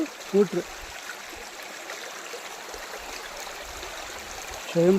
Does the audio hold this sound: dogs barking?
no